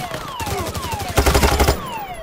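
Payday 3 gunshots ring out in quick succession, a loud rapid burst of automatic fire in the middle after scattered single shots, with faint pitched whines and game effects throughout.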